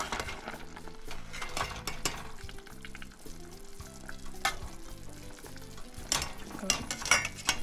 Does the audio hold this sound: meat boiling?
yes